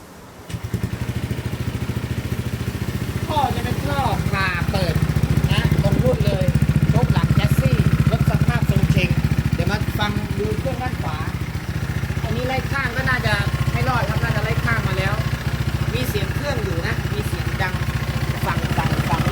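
A remapped Honda PCX 160 scooter idles close by with a steady low engine rumble and a whirring belt-drive rattle, while someone talks over it throughout.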